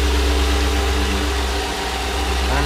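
A 2008 Ford F-150 STX 4x4 with a 4.6 liter V8 idles under an open hood, a steady, smooth low rumble heard close up with no talk.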